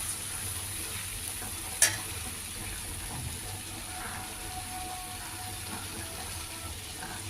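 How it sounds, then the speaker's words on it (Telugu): Broad bean and pumpkin pieces cook in a pan with a soft, continuous sizzle, heard up close and fairly quiet. A single sharp clink comes early, and faint background noise runs underneath. "చిక్కుడుకాయ ముక్కలు గుమ్మడికాయ ముక్కలు 2 కలిపి కొద్దిగా మగ్గించుకోవాలి"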